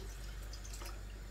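Water is poured into a pot of cooking rice with vermicelli, making a soft, steady splashing trickle. It is close and quiet and runs without a break.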